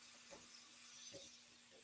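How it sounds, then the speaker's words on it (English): A pressure cooker leaks steam in a kitchen, giving a faint, steady hiss with a few soft clicks and bumps in the background. "There's like steam coming out right here."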